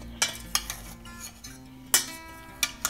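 A spoon scrapes and clinks against a bowl while avocado egg salad is mixed, with a few sharp taps spaced irregularly, close and alone.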